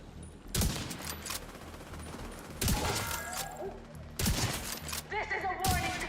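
Bursts of gunfire from The Division video game, a few separate volleys of rapid shots and impacts over a steady game background, with faint voices in the mix.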